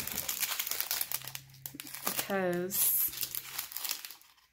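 Plastic packaging of diamond painting drills crinkles and rustles close by, with a short sharper crunch in the middle, while a person talks over it.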